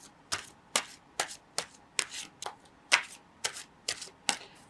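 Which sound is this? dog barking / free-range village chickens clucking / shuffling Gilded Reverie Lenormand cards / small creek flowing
shuffling Gilded Reverie Lenormand cards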